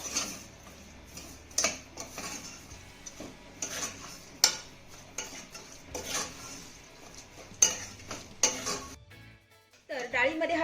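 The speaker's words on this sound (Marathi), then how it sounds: "आता हा गुळ आपल्याला डाळीमध्ये चांगला मिक्स करून घ्यायचा आहे" A spoon stirs jaggery into cooked dal inside a pressure cooker, making intermittent metallic clinks and taps against the pot with soft scraping between them, ending in a brief pause and a few last knocks.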